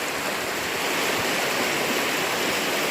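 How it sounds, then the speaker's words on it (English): A small waterfall in the spruce-covered Catskill Mountains gives a continuous, full rushing roar of falling water, steady and close, with no voices over it. "And there's a little waterfall."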